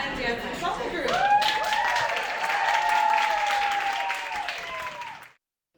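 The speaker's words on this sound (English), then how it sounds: "let's give a huge round of applause for the DE Latin Dance Ensemble group" Applause for a Latin dance ensemble at a dance show, a full crowd clapping steadily with cheers and musical tones mixed in, then cutting off abruptly near the end.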